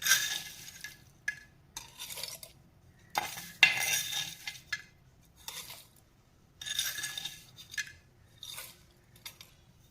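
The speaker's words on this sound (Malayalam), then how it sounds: "നമുക്ക് മിക്സിയുടെ ജാർ എടുക്കാം, അതിലേക്ക് ഇതിട്ട് കൊടുക്കാം." Dried leaves for a home hair-darkening remedy spooned into a mixer grinder jar, a series of soft scraping rustles and light clinks of a spoon against the jar in irregular bursts, close and quiet.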